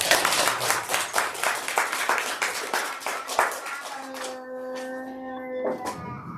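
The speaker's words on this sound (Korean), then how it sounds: "우리 박수 한번 하겠습니다" A church congregation claps together during a Christmas service, a dense run of hand claps that thins out after about four seconds as a sustained organ or keyboard chord comes in beneath the last scattered claps.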